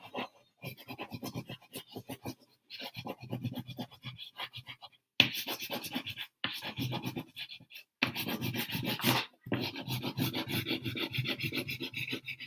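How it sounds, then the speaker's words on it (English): A crayon held on its side rubs steadily over paper laid on a table, giving a soft rasping scratch in repeated strokes with short pauses between them. "So I'll take my crayon on the side and rub the crayon around to fill in the sky."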